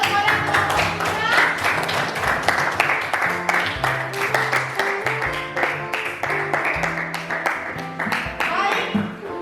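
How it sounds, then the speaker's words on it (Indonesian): Classroom applause for group 3 during an academic supervision session, a steady patter of many hands clapping for several seconds, close and fairly loud, with a tonal background hum underneath. "Berikan aplaus kepada kelompok 3."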